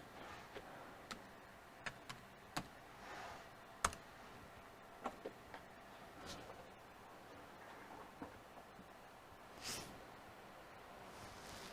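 A password typed on a computer keyboard: sparse, separate key clicks spread over several seconds, quiet and close in a still room.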